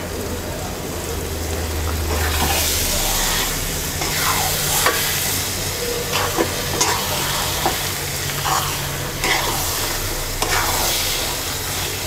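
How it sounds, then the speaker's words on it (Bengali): Mixed fruit pickle with panch phoron, fried dry red chili and coriander being stirred and cooked down in a pan, a continuous loud sizzle with repeated scraping strokes of a spoon, all close up. "এবার আমরা আচারটাকে আরো 2-3 মিনিট কষিয়ে নেব"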